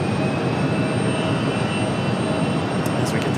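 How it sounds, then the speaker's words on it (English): Delta Airbus A320 departing Raleigh-Durham International, a steady, loud broadband jet engine roar holding constant without a break, with no voices over it. "as we get the Delta departure, the A320"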